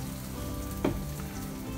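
An egg fries in a non-stick pan, with a steady close sizzle throughout and one brief louder pop midway, no talking.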